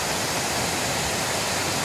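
Water flowing at an abandoned cotton mill makes a loud, steady, broadband rush like a waterfall, constant and close with no other sounds.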